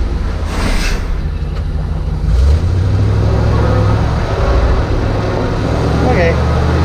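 Chevrolet C60 dump truck driving in third gear, its engine a loud steady drone that rises in pitch partway through, with a person talking over it.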